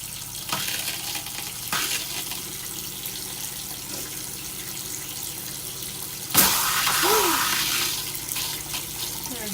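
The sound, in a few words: water running from travel trailer bathroom sink tap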